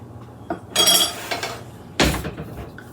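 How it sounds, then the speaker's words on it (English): A spoon scrapes and knocks against a bowl while sourdough coffee cake batter is mixed with all-purpose flour, in a few loud, clattering bursts separated by short pauses. "now we're going to get all that mixed up really well"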